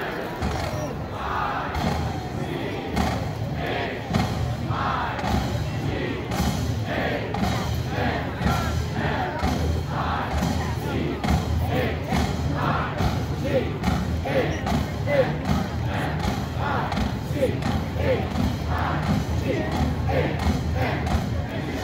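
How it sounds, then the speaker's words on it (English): A stadium crowd at a Michigan Marching Band rehearsal before the Rutgers game chants the Michigan Locomotive Cheer, spelling out Michigan in rhythmic group shouts that build across the stands, broad and reverberant. "Ann Laswell, class of 1977, will lead the Michigan Locomotive Cheer. Spell Michigan three times, then all together, Michigan"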